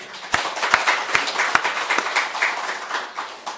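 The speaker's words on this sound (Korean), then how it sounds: "박수 한번 주세요." A church congregation at a deacons' seminary applauds in a short, moderately loud round of clapping, with a few sharp individual claps standing out near the start.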